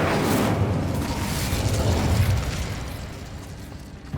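Casting the Incendio fire spell in Hogwarts Legacy unleashes a loud, sustained whooshing burst of flame that roars for a couple of seconds, then tapers off, with a small pop at the very end.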